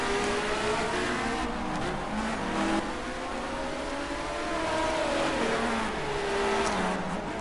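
Several LMP1 prototype race cars in multi-class traffic on the Nordschleife in Project CARS, engines droning and whining steadily with shifting pitches as they jostle closely, loud and continuous throughout.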